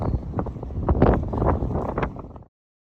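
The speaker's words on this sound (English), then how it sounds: "A little cold and windy up here." Cold wind buffeting a microphone on the mountaintop at Clingmans Dome in the Great Smoky Mountains, a loud, gusty rumble that rises and falls for a couple of seconds before cutting off abruptly.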